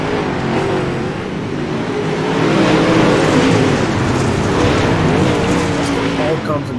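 UMP modified race cars roar around the Kokomo dirt track, engines droning and rising loudly close by, with a commentator talking over the racing.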